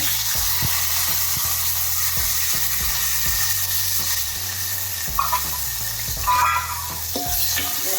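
Gunda berries fry in hot oil with asafoetida while a spoon stirs them, producing a steady sizzle broken by regular scraping knocks against the pan and a few louder clatters near the end, no voices.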